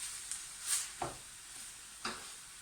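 Chopped tomatoes from a tin go into a hot pan for a chunky tomato sauce, giving a soft, quiet sizzle with a few wet splatting stirs close by.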